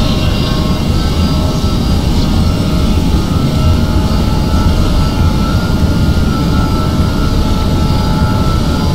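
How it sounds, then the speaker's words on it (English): Airbus A320 jet engines at takeoff power in Flight Simulator X give a loud, constant, dense roar with a deep rumble and a steady whine, unbroken for the full stretch with no talking. "Flex SRS runway. Power set."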